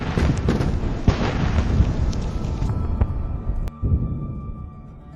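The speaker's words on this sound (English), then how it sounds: "The vehicle begins to detonate and burn fiercely." A Russian military vehicle struck by a HIMARS missile detonates and burns fiercely, giving a dense, roaring rumble of explosions and crackling fire that gradually thins out, with one sharp crack near the end.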